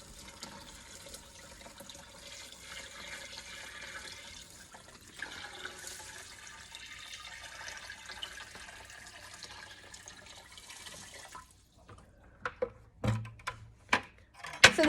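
Water pours steadily into a pea puffer fish tank with gravel, a continuous rushing splash that runs for several seconds before stopping, followed by a few scattered knocks and handling sounds.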